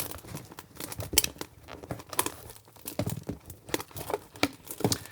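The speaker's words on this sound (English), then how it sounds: "that popping noise you heard with the Orbz, that is supposed to be there" Twisting latex balloons while building a birthday centrepiece from Clearz and Orbz balloons produces a steady run of rubbery crinkling and squeaking. Sharp little pops and snaps come from an Orbz balloon's extra panel, close and fairly quiet.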